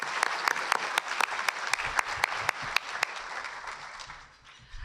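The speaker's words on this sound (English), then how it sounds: "Let's give a big hand of applause for all our sponsors." An audience at an awards event claps together for sponsors, with sharp individual claps standing out over a dense patter that slowly fades, heard at a moderate distance.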